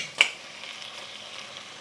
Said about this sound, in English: I'm adding my lemongrass in there along with my chicken.